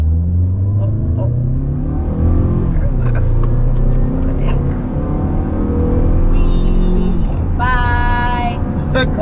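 A 2019 Mazda CX-5 in sport mode accelerates hard from a green light, its engine climbing steadily toward high revs before a shift, loud and close, with excited voices speaking over it.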